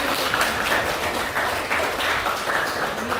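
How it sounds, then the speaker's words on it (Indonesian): Audience applause in a classroom teaching session, a steady dense wash of clapping from many hands lasting a few seconds, fairly loud and continuous with no talk over it. "Kita berikan dulu aplaus."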